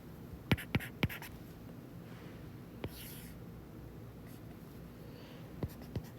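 Pen or chalk writing out a math expression: a few short, sharp taps and brief scratching strokes in clusters, against quiet room noise.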